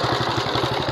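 A Honda GX270 engine runs on a Quick Impala hand tractor, idling with a steady, rapid low thumping pulse up close, loud and continuous with no talk.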